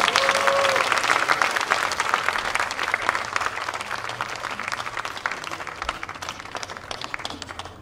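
Audience applause greets a tenor at a summer-night outdoor classical concert before an aria from Tosca, a dense sustained clapping that stays loud and slowly thins over several seconds.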